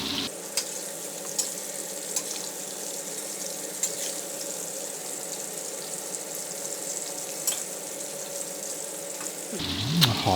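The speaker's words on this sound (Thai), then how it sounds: "ทอดไฟแรงต่อเนื่องได้เลยนะครับทอดให้ซี่โครงหมูก็สุกเหลืองหอมดีเลยครับ" Pork ribs deep-fry in hot oil over high heat for garlic pepper ribs, giving a steady, dense sizzle throughout with occasional soft pops and stirring clicks, ending in a brief louder scrape.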